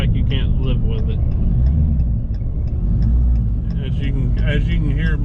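A supercharged Dodge Hellcat idles roughly as it comes to a stop, a deep, loud, uneven rumble with lumpy throttle pulses throughout, heard close up.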